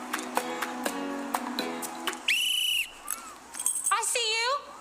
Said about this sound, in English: My whistle is just as loud with my mask on.